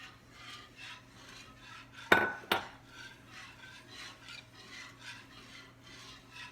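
A whisk scrapes rhythmically through heavy cream and milk in a pot while making macaroni and cheese, steady repeated swishing strokes close up, with a couple of sharper clanks of metal against the pot partway through.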